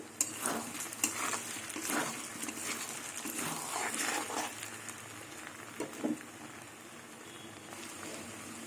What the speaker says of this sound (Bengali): কচুটা একটু লাল লাল করে ভেজে নিতে হবে